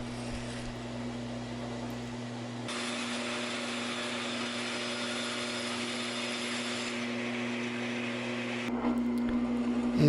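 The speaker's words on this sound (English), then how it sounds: "here I am cutting it out on the bandsaw" A bandsaw cuts a wooden end panel for a bird feeder, giving a steady loud whine over a low motor hum, with the cut note shifting near three seconds and again near nine as the blade meets the wood.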